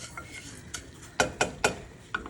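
A spoon stirs a cup of kasha in a cooking pot, making soft scraping under a few sharp clinks against the pot's side.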